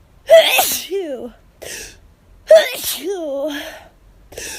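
Two forceful hay-fever sneezes burst out in quick succession, each a sharp explosive blast trailing into a voiced tail, close and loud with brief gaps between.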